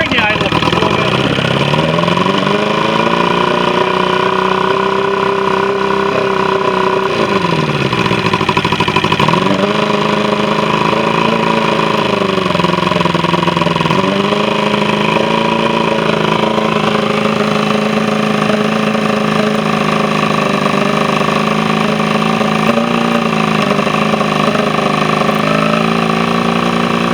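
A 1977 OMC V4 85 hp outboard idles loudly and continuously, its rough, uneven tone rising and dipping as the idle is adjusted, with an apparent carburetion fault; people talk over it.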